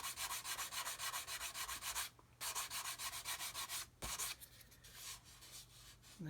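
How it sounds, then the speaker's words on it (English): Hand sanding on a model build to level a surface, a steady scratchy rasp in rapid back-and-forth strokes, close and loud, pausing briefly twice before resuming at a lighter, softer pace. "So we're just sanding that area."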